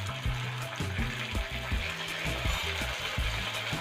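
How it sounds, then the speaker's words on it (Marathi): Leftover idli manchurian sautéed briefly with red chili sauce in a pan, a steady sizzle under repeated rhythmic knocking and scraping of a spoon against the pan. "थोडंसं परतून घ्यायचं, जास्त शिजवायचं नाही आपल्याला"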